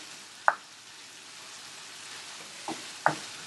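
Spice paste with sour yogurt fries in oil over medium heat for a Bangladeshi rui fish curry, giving a faint, steady sizzle broken by a few sharp clicks from stirring.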